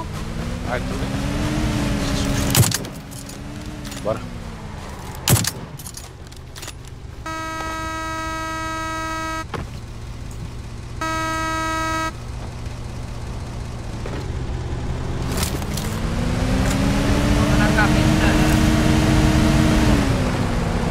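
Vehicle engine in PUBG Lite gameplay, a steady droning motor with rising and falling pitch as the car drives, loud and continuous, with brief voice and a couple of sharp impacts.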